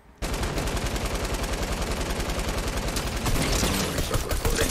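Rapid automatic gunfire from a video game shooter, loud and continuous, with dense fast bursts of shots running through the whole stretch and intensifying toward the end.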